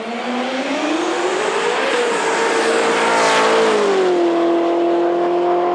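A Corvette streetcar roars down the strip at Knoxville Dragway, its loud engine note climbing steadily through the gears in one continuous, close, powerful drone.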